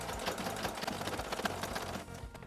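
A Kenmore 385.16231 sewing machine stitches bias tape onto an apron in a dense, steady mechanical chatter of rapid needle strokes. It runs close and continuous, then eases off near the end.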